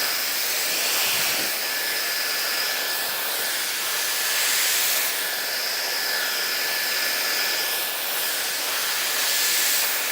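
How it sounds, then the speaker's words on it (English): A salon hair dryer blows steadily on hair, a loud continuous whooshing hiss with slight swells in airflow as it moves, close up and with no talking. "you're maintaining a consistent heat, blow drying from the inside out"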